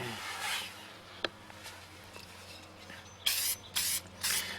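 Spray sealant hisses onto stamped paper in three short bursts, each about half a second long, following a stretch of quiet handling noise and a single sharp click.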